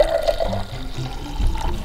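Flavoured tea poured into a glass, a short close liquid splash and trickle lasting under two seconds with no talk over it.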